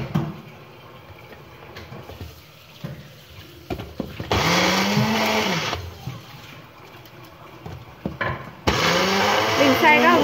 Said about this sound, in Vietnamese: Mình sẽ cho vào máy xay để mình xay đều lên các bạn nhé.